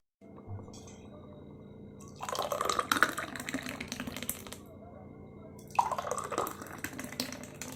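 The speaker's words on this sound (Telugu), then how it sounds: "ఇప్పుడు ఇందులోకి జ్యూస్ వేసుకుందాము." Thick sapota juice is poured into a glass in two bursts, a long liquid gush followed by a shorter one, close and fairly loud with no talking.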